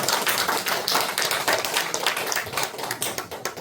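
Applause of thanks from a church congregation, a dense wash of many hands clapping at close range with no voices over it.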